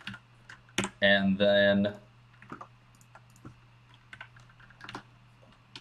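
Keystrokes on a computer keyboard while entering a command into an SBT console in IntelliJ, scattered light clicks after a brief spoken phrase, moderately close.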